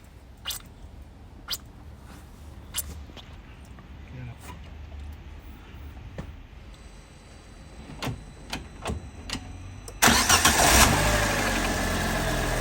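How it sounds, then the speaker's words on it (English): A Fiat 500 car sits with scattered clicks and knocks before its engine starts near the end and settles into a loud, steady idle. "I'm going to start the car now."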